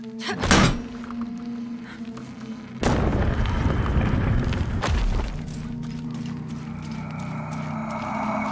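Explosions go off in the video game Shadow of the Tomb Raider: a sharp thump early on, then a loud booming blast with a long rumbling tail around the middle, followed by lingering low ambience.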